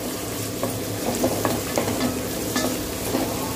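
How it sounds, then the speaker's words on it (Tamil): Onions and mixed vegetables sauté in hot oil for rava upma. A steady sizzle runs throughout, broken by irregular spoon-stirring scrapes and clicks at close range, with no talking. "எண்ணெய் ஊற்றி வெங்காயம் போட்டிருக்கிறேன்."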